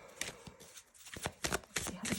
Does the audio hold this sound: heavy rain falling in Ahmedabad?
no